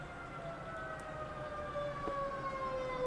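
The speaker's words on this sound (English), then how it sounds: "Can you hear the siren?" A siren wails steadily in the distance, its tones sliding slowly downward over a constant background hum.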